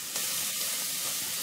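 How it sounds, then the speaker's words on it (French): Sausage fat sizzles and crackles steadily in a heavy pot at the start of cooking jambalaya, a dense, even frying hiss up close with no talk. "Vous voyez toute la graisse qui commence à cuire?"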